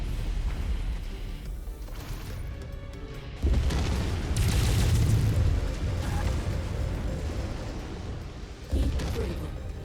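Thumper long-range artillery, a mod weapon in the Mechwarrior 5 video game, fires in heavy booming blasts, with two sudden loud thumps several seconds apart followed by rumbling echoes amid continuous battle noise.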